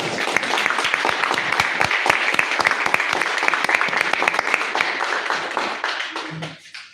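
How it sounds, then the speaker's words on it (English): An audience claps for finalists coming on stage to receive their checks: sharp, individual hand claps ring out clearly in a loose, uneven burst that tapers off and stops near the end. "here's a round of applause for Kalinasho"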